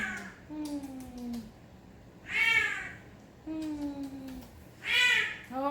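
A female cat in heat yowls twice in long, drawn-out calls separated by quieter tonal sounds, close and fairly loud.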